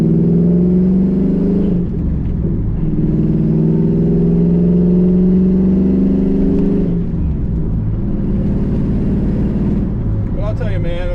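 Steady low rumble of a 2001 Pontiac Trans Am's engine heard from inside while driving, continuous and fairly loud with slight pitch shifts, someone talking over it throughout.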